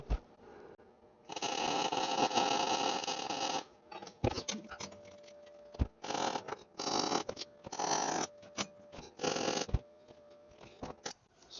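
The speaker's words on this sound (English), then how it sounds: "So let's get some welding happening." Metal brolga sculpture being welded: stop-start bursts of harsh crackling buzz, one long run followed by several shorter ones, with a faint steady hum in the pauses.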